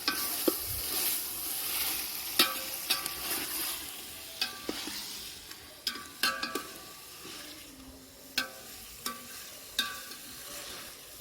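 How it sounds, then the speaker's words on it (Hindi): About a kilo of goat meat frying in a village handi, a continuous sizzle broken by repeated sharp scrapes and knocks of a spoon stirring against the pot, close and without talk. "गोश्त की भी हम 7-8 मिनट तक बनाई करेंगे, ताकि अच्छी तरह से फ्राई भी हो जाए"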